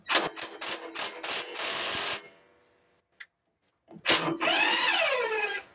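A ratchet wrench loosening the spark plug on an MTD mower engine, rapid clicking bursts broken by a short pause, then another sustained ratcheting run, close and fairly loud with no talking.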